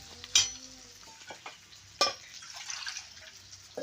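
Bombil (Bombay duck) curry being stirred in a pan by a grandmother, with a couple of sharp scraping clinks and faint frying and stirring noises in between, fairly quiet.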